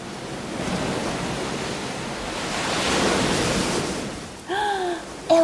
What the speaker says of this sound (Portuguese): Olha que som legal que o mar faz.